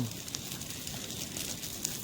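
An outdoor campfire, lit at dusk beside a tent to drive off mosquitoes, gives soft, scattered crackles and small pops over a low steady hiss, close but fairly faint, with no talking.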